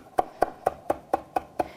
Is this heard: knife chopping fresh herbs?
yes